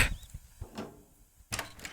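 In the video game Crusty Proto, a door slides and thuds with several bursts: a loud start, a few mechanical knocks, a quiet gap, then a louder opening or closing sound near the end.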